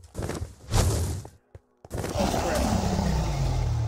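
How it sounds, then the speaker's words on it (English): Fireballs shot in the Minecraft End: several loud whooshing blasts and thumping impacts close by, a short pause, then a sustained rumbling roar, with a voice talking over parts of it. "Stop shooting fireballs at me!"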